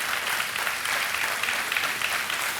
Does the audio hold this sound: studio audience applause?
yes